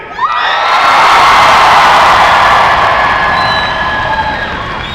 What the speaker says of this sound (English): Now you sound like the same rowdy crowds from out there at the run